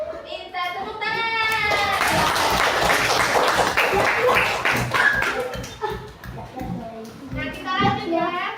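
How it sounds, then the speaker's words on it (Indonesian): A classroom of schoolchildren bursts into a loud burst of clapping lasting a few seconds. Children's voices chatter before and after it. "Minta tepuk tangan."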